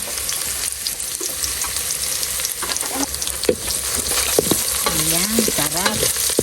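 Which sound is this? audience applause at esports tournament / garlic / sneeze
garlic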